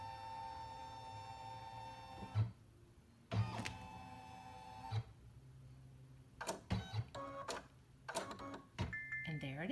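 An embroidery machine whirs and hums as it moves, scanning for a positioning sticker, with stop-start motor runs, clicks and short mechanical pulses separated by brief quiet pauses.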